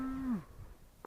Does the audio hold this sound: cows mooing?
yes